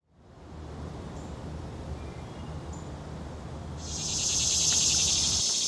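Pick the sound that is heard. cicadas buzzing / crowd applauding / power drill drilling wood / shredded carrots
cicadas buzzing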